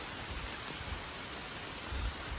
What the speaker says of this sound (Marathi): पाऊस इलो रे